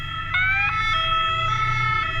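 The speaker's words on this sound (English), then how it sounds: "And those French sirens." A French emergency vehicle's siren wails loud and close, its two-tone pitch stepping back and forth over a low engine rumble.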